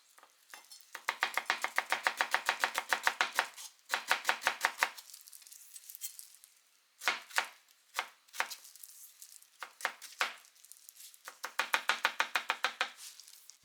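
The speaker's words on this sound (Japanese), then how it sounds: "玉ねぎも少しみじん切り。" An onion being finely minced with a knife on a cutting board, with rapid, crisp, evenly spaced knocks in several long bursts, then a few slower single chops, then another fast run, all close and clear.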